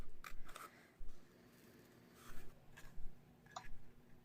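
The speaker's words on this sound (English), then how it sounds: "Using the scissors, follow the line that you've just drawn until you have the shape that you want." Scissors snip through paper in short, separate bursts with pauses between, close by and fairly quiet, with no talking.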